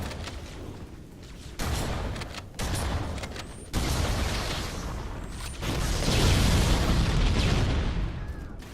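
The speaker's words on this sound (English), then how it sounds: "Such a pretty explosion." Explosions in a Halo video game sound as a string of sudden loud booms and blasts, each cutting in sharply, then building into a long, heavy rumbling roar near the end.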